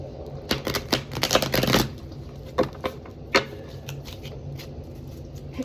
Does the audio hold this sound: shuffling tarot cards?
yes